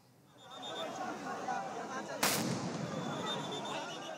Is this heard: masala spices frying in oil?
no